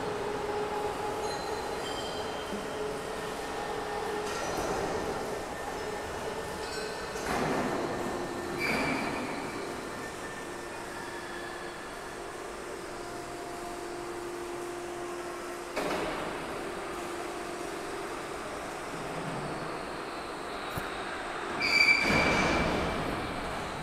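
A double layer roofing sheet roll forming machine runs steadily in a factory, giving a continuous loud mechanical rumble and whine with several heavier clanks and a brief sharp squeal near the end.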